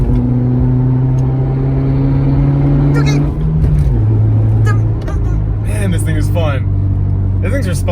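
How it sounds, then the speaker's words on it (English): A 170-horsepower Subaru Impreza fitted with a Pedal Commander throttle controller drones loudly at full throttle, the engine tone climbing, dipping with a gear change and rising again while someone talks over it. "That's full throttle."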